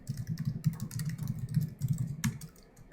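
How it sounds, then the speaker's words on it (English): Keys clatter on a computer keyboard in a quick, even run of soft clicks for about two and a half seconds, ending with a slightly firmer keystroke, with a low steady hum beneath. "I actually do the work and type permissive."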